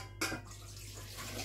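Milk poured into a metal yogurt maker container, a brief splashing pour near the start followed by a steady liquid trickle with a low hum underneath.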